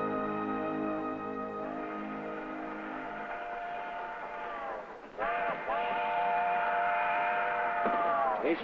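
A train whistle sounds in long, sustained tones over a low rumble, fading briefly before blowing again, moderately distant.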